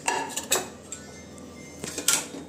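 Grated coconut is stirred into upma in a home kitchen pan, with a spoon clinking and scraping against the metal in a few short bursts near the start and near the end, close and moderately quiet, no voices.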